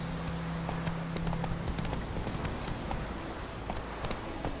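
Hoofbeats of Roach, Geralt's horse in The Witcher 3: Wild Hunt, galloping at a steady rhythmic clip-clop over a continuous outdoor game ambience, with a low droning tone early on.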